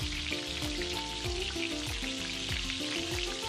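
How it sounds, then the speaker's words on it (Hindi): Ginger garlic paste sautés in a pot with a steady, close sizzle and crackle, the frying hiss constant throughout with faint stirring underneath. "इसको 30 सेकंड के लिए सौते कर लेना है।"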